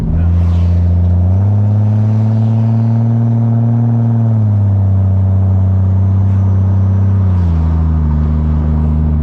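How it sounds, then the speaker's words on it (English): A Ford XR6 ute fitted with an X-Force exhaust drives close by, its loud droning exhaust note holding steady, rising in pitch under light acceleration, then easing and climbing again. "The X-Force exhaust sounds really nice."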